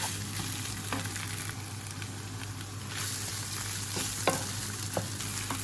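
Spicy stir-fry of fish balls with bamboo shoots frying in a pan, a steady close sizzle broken by occasional sharp scrapes and taps of a spatula stirring.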